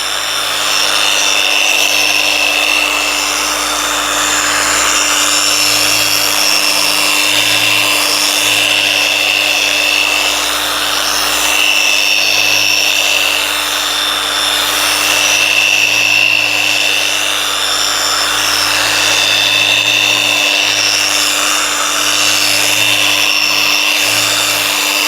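A polishing pad buffs a Porsche headlight lens with a steady, continuous whirring rub that holds at a constant close-up level throughout, with a low electrical hum underneath and no voices.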